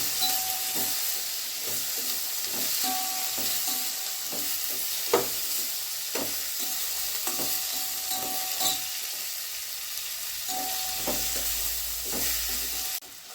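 Vegetables sautéing in a pan for Chettinad-style sambar rice keep up a steady hiss, broken by repeated light scraping and clinking as they are stirred throughout, with no talking.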